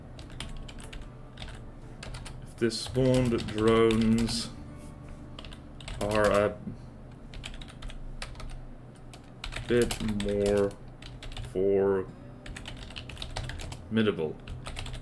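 Typing on a computer keyboard, bursts of rapid key clicks scattered across the stretch, with someone talking between and over them.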